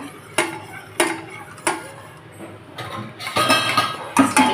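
A spoon clinks and scrapes against a pot while a jelly mixture is stirred. Several distinct metallic knocks come at intervals, then brisker, denser scraping toward the end, with no voices.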